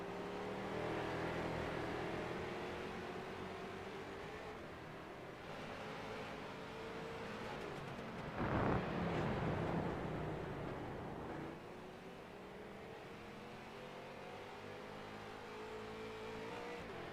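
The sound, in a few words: stock race cars racing at Daytona road course, racing video game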